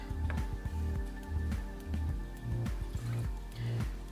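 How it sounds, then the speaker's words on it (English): A third of a cup of water pours into a pan for homemade caramel syrup, making trickling, splashing sounds with a rhythmic dripping pulse, close and moderately quiet with no talking. "we're going to put 1/3 cup water in the pan."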